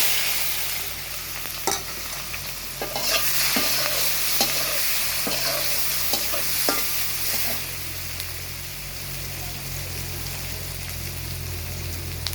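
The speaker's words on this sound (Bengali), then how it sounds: "কড়াইতে তেল দিয়ে দিয়েছি, এখন দিয়ে দিব পেঁয়াজ কুচি" Chopped onion frying in hot oil in a wok makes a loud, continuous close-up sizzle with a few scraping stirs, and no voices.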